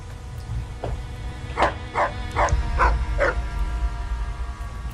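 A dog in the video game Fallout: New Vegas barks five times in a quick, evenly spaced series, fairly close and clear, over a steady low hum.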